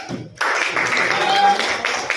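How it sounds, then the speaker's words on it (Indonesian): Classroom applause breaks out after a brief pause, a burst of many hands clapping that holds steady for about two seconds. "Tepuk tangan buat Kansa dan Tirta."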